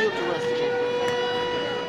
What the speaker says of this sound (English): air raid sirens, as if they needed a reminder of why they were going.